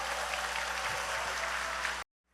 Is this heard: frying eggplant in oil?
no